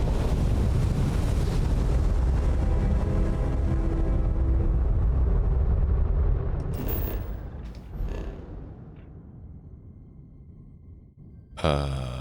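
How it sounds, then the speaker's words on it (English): A spaceship in the video game Starfield switches over to standard engines, giving a loud, steady low rumble with roaring noise that fades and thins out, followed by a few faint mechanical clicks and a sharp burst near the end. "Switching over to standard engines."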